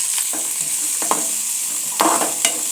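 Chopped onions hit hot oil in a pan and sizzle steadily while a spoon scrapes and stirs them in short, irregular strokes, close and moderately loud.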